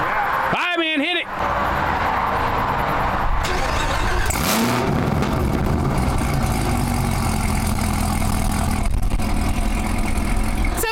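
A 10-speed Camaro ZL1 revs hard through its aftermarket exhaust, a loud, continuous roar with rising and falling engine pitch, while people talk over it at the start.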